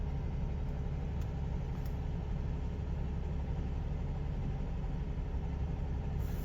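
A Mercedes W124 engine idles steadily at about 1400 rpm, a continuous low rumble heard close up and unchanging, with no voices.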